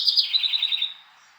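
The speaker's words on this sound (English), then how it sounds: "the birdies do be talking" A small bird gives a quick run of bright, repeated chirps, about eight evenly spaced notes close by, fading out after about a second, with no other sound.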